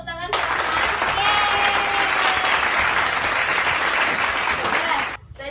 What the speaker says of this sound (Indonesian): Beri tepuk tangan ke Rahma.